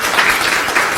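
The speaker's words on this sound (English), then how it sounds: "BCTV, huge clapping." Studio audience applause at a late-night live television interview show in Adelaide, a dense steady wash of clapping held at an even loudness for the full second with no voices over it.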